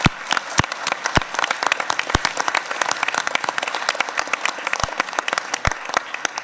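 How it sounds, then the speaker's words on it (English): An audience applauds at a city swearing-in ceremony for the Charlotte police department, a dense, steady crowd clapping with sharp individual claps standing out, loud and sustained throughout. "You deserve a huge round of applause as well."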